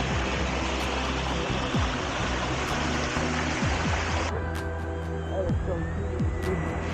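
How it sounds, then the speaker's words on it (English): A waterfall along a highway roadside roars as a dense, steady rush of falling water, loud and continuous, with the noise thinning partway through as the view shifts. "That's probably the coolest waterfall I've seen."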